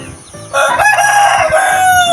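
A rooster from France crows loudly and close by, one long, strained cock-a-doodle-doo that holds its pitch before trailing off.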